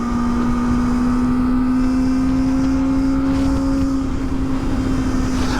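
Kawasaki ZX-4RR KRT sport motorcycle, a 2023 model with a flashed ECU, revving high and winding out with a steady, rising high-pitched engine whine that stays loud and close throughout.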